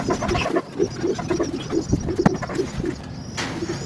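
Breeder pigeons in a loft coo repeatedly in a soft, rhythmic run of low throaty calls, close by, with light rustling and a brief knock.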